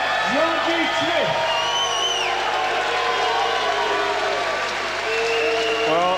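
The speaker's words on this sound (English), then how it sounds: "the cheers mixed with some boos here, I think" A boxing arena crowd reacts to the announced winner of a Southern Area Light Welterweight title bout, loud sustained applause and cheering with mixed boos, alongside a voice over the top.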